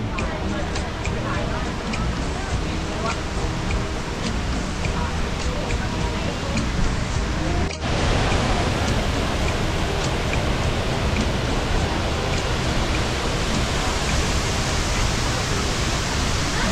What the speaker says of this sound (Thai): น้ำตกวชิระทาน